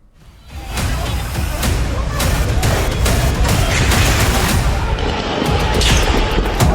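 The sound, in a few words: rapid gunfire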